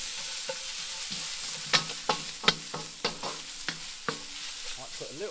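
Carrot cubes fry in oil in a pan on a Big Green Egg kamado grill, a soft even sizzle punctuated by about a dozen distinct scraping knocks as they are stirred around, with no voices.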